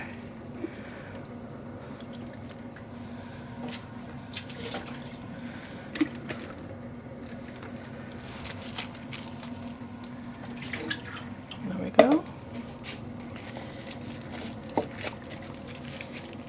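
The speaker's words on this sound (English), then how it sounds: "So I think I'm going to remove some more water here" Water drips and trickles from a wrung-out skein of home-dyed yarn: quiet, scattered drops over a low background hum, with one louder splash partway through.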